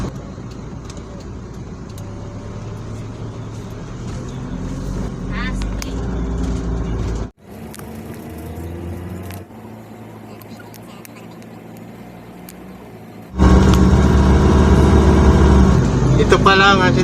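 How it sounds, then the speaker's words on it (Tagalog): Road traffic in Better Living, Parañaque, with a constant roar of cars and engines passing nearby and a louder surge near the end, with a person talking over it. "Ito pa lang ang sitwasyon ng traffic sa alert level 1 dito sa Better Living, Doña Soledad."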